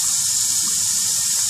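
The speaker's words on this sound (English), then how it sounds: "Sometimes you have to put a little water on your face." Water from a tap gushes and splashes as it is put on the face during shaving with a safety razor, loud and continuous, a close, hissing spray without talk.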